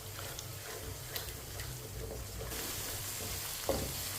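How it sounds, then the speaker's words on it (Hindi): Sarson ka saag mustard greens sautéed over high heat while a spoon stirs them, a soft sizzle with occasional scraping clicks, the frying growing louder partway through, no speech. "अब इसे 2 मिनट के लिए ऐसे ही चम्मच चलाते हुए पका लेंगे, अच्छी तरह भून लेंगे"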